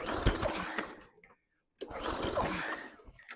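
Two rough, raspy pull-start yanks on a lawn mower running without its air filter, separated by a short silence, with the engine not catching.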